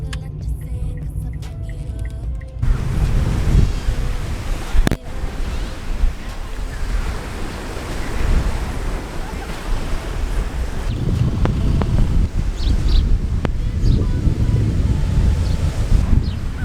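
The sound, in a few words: strong wind at a seaside beach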